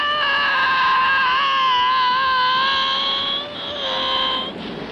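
A man's prolonged, piercing scream from a fight scene in the 1979 film The Warriors, loud and strident with a steady pitch that wavers slightly and briefly dips before continuing.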